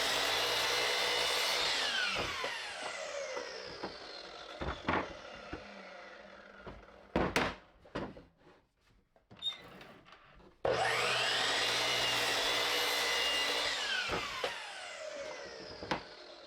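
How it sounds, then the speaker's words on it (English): A miter saw trims both sides of a wooden bench top, two long whining cuts with a quieter pause of clatter between, loud and close with no talk. "get back to the miter saw and trim off the bench top both sides"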